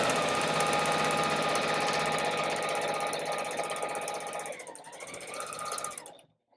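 A sewing machine chain piecing quilt strips runs in a steady, fast mechanical whir, close up, then slows and stops near the end, with no talking.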